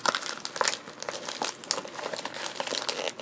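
Crinkly wrapping is torn and crumpled as a mail package of fountain pens is opened, dense and continuous rustling close up with no voice.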